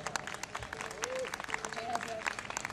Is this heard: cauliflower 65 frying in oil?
no